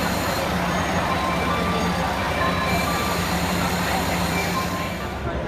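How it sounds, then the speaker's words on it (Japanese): A Momotaro Line train arrives at a station platform to be coupled with two more cars, producing a loud, continuous rumble and rail roar with speech over it. "10番乗り場到着の列車は連結列車です。"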